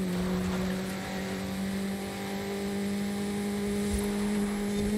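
Race cars roar through the Forza Horizon 5 video game, with a steady droning engine note sustained at close range and a brief rising rev near the end.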